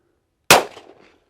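One sharp, loud gunshot from a 10mm Springfield 1911 pistol on a shooting range, a sudden crack after near silence that trails off in a short echoing decay.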